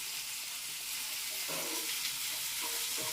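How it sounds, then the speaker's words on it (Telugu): Onions cooking in oil in a home kitchen, a steady broadband sizzle that brightens and intensifies halfway through, close and continuous with no talking. "ఆనియన్స్ కుక్ అవుతుంది."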